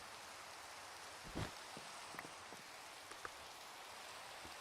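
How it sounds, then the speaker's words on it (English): Steady, faint rain falls in the Minecraft game world as a soft continuous hiss, with a few light thuds and pattering hits scattered through it and no voices. "Rain, go away!"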